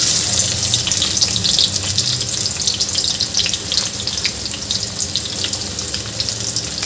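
Onion frying in hot oil with cumin gives a loud, continuous crackling sizzle close by, with fine spitting and popping layered over a low steady hiss.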